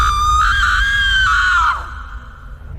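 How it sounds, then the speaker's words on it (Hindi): A woman screams loudly at night in a Hindi ghost story, one sustained, piercing shriek about a second and a half long that wavers in pitch and then breaks off, leaving low background noise. "कुछ दिन बाद मेरी मम्मी एक रात 2 बजे जोर जोर से चीखने लगी"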